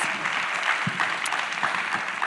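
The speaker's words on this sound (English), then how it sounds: "Let's give them another big round of applause." A crowd claps continuously at a panel discussion, a dense steady wash of applause with no pauses.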